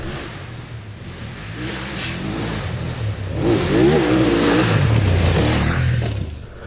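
A BMW F900 GS motorcycle engine drones steadily while riding on a road with kangaroos about, then revs up and holds louder through the middle before easing off near the end.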